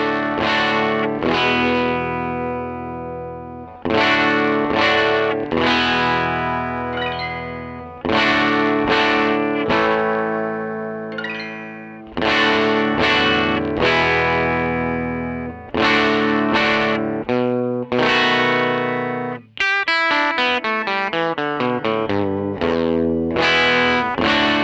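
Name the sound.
guitar demo through original 1957 Fender Vibrolux amplifier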